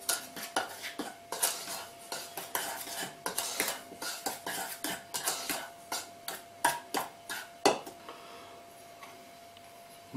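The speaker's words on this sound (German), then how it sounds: "mischen wir zuerst Mehl und Zucker" Flour and sugar stirred together in a mixing bowl, giving a steady run of sharp clinks and scrapes from a utensil against the bowl, fairly close and alone with no talk.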